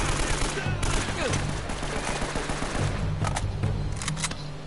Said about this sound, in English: I'll just shoot you with a handgun.